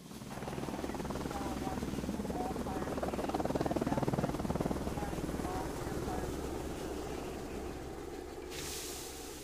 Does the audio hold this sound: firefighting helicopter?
yes